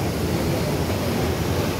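Fast, rushing river water roars steadily near a waterfall in Kotabagh, a dense, unbroken wash of noise filling the air up close.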